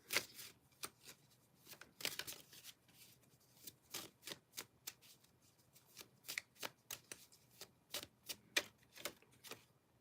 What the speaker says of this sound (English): we'll do shuffle. Okay. Shuffle.